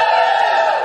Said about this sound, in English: Just give us a cheer.